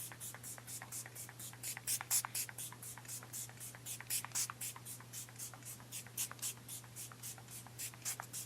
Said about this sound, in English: we're going to shake it up and we're going to spray this down